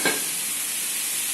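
Beans sautéed and stirred in a pan give a close, even sizzle that opens with a short scrape, then holds a steady hiss for the rest of the moment.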